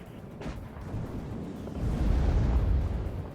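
A T-55 tank fires its gun in a WARNO battle, a deep rumbling boom that swells and lingers over steady background battle noise, loud and heavy near the end.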